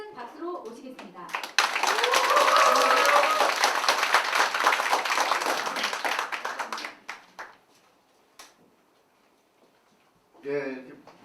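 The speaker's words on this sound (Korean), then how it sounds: "김종빈 국회의원님을 큰 박수로 모시겠습니다" A lecture audience welcomes a speaking politician with big applause: a dense burst of many hands clapping that swells, then thins to scattered claps and fades, with talk before and a voice after.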